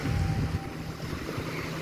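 Sea waves wash onto a sandy beach at Hat Sai Kaew, Sattahip, making a steady, continuous roar of surf with some wind buffeting. No one speaks.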